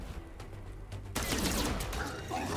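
Sustained gunfire erupts in the video game Miasma Chronicles, a dense, loud stretch of shots and crackle that follows a quieter opening with faint game ambience.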